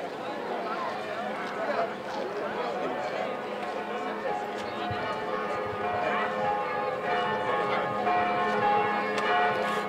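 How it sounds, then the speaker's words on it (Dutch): Church bells of Sint-Sebastianus ring continuously at a liberation commemoration in Hellendoorn, their steady metallic tones layered over crowd chatter and voices outdoors. "Tussen 12:30 en 13:45 waren de kerkklokken van de Sint-Sebastianus en Ongriezen te horen."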